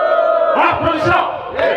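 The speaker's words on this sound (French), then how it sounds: "Applaudissons." A large crowd at a 2023 religious gathering roars and shouts together in rising waves of cheering, loud and close, with no clear clapping standing out.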